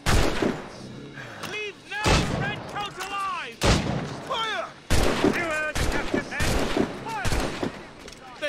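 Gunfire in Assassin's Creed Rogue cracks out in several sharp, loud reports spaced a second or so apart, mixed with shouting voices and battle commotion throughout.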